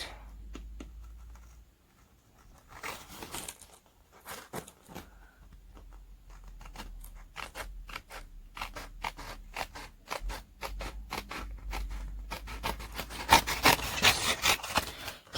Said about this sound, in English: Oh, I'm just going to cut this out.